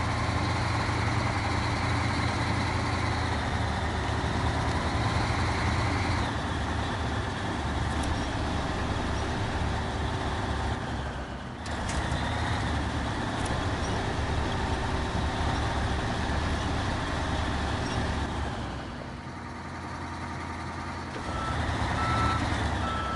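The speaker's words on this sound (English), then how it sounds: "We are in a truck that's literally meant to drive over rugged rocks" A heavy truck engine rumbles steadily while driving and reversing over rugged rocks, with reversing beeps sounding throughout, a brief dip in the engine noise near the end, then a return to loud, continuous running.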